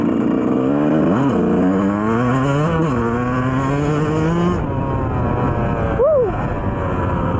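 A 2004 Yamaha 125 YZ two-stroke motocross bike revs hard, its engine rising and falling in loud, buzzing sweeps with sharp climbs and drops in pitch, heard close and continuously.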